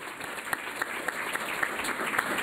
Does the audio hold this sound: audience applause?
yes